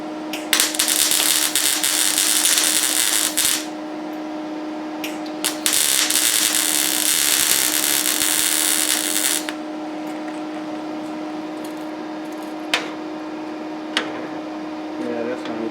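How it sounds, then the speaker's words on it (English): Sheet metal being welded on a Mustang, heard as two long, loud bursts of harsh crackling hiss separated by a short pause, then fading to a steady background hum with a few faint clicks. "So I can weld this top one in for sure."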